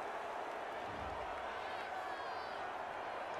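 Stadium crowd at an NFL game between the Detroit Lions and Chicago Bears lets out a sustained, dense roar of displeasure over a penalty call, a steady wash of massed voices with no break.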